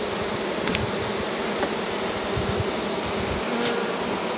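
Buckfast honey bees buzzing steadily inside an open hive, a dense, continuous hum with occasional louder individual buzzes standing out close by.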